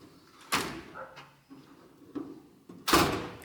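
Drawers of a U.S. General Series 3 toolbox slide and bump shut, giving two sharp metallic clacks with a few softer rolling knocks between them, close and with no talking.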